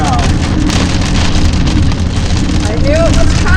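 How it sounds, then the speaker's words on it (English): Rain falling in Shenandoah National Park, a loud, steady patter and hiss of drops striking surfaces close by, with a brief faint whistle-like tone near the end. "Oh great, my wife predicted rain,"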